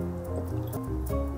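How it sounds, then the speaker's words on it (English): Hexanediamine solution pours from a container into a vessel for a nylon-forming chemistry demonstration, a close, continuous wet trickle with small dripping splashes. "First, I'm gonna pour in the hexane diamine."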